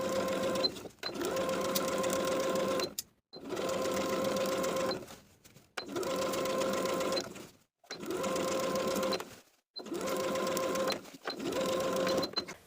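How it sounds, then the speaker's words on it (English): A sewing machine stitches a sleeve seam in six steady runs of rapid mechanical whirring, each a second or two long and separated by short pauses, close and clear. "Sew the sleeve in place with a 1/2 inch seam allowance"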